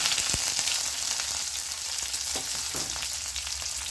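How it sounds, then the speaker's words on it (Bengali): Onion and green chilli frying in oil until the onion browns, an even close-up sizzle with occasional spatters and stirring knocks, no speech. "পেঁয়াজের সাথে কাঁচা লঙ্কাটা দিয়ে দিচ্ছি"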